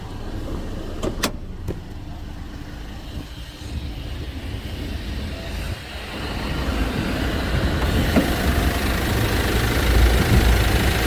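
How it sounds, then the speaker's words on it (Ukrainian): A 2.3-litre-class Opel Movano L1H van with 190,000 km on an original, untouched engine idles steadily, a continuous close mechanical hum and rumble that thickens slightly toward the end, with no talking. "Ось так працює двигун."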